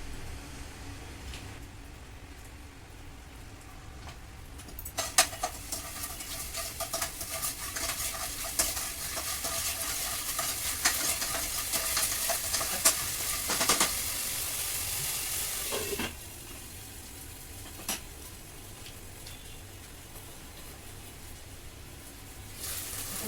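Garlic and ginger paste hits hot oil in a pan and is stirred, a loud sizzling hiss that builds after a quiet start, with scraping stirs and clatter on top, then fading near the end.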